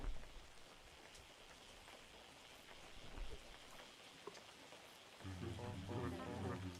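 Rain falls in the video game WEBFISHING as a soft, steady patter with scattered drop ticks, fairly quiet overall, and a voice begins talking over it toward the end.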